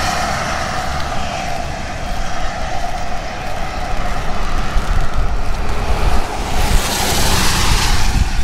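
Strong wind buffets the microphone in a steady, roaring rush, with gusts swelling near the end; no voices.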